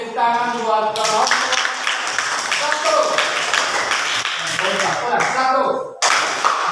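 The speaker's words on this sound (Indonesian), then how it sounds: "Oke, tepuk tangan buat kelompok" A class claps together for a student group after its presentation, a dense burst of hand clapping running steadily throughout, mixed with voices speaking and calling out over it.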